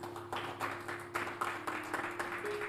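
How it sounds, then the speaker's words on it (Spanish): A church congregation at a Spanish-language service claps in a quick, rhythmic run of close, even strokes, with a faint sustained tone humming underneath. "Dale un aplauso al que vive y reina."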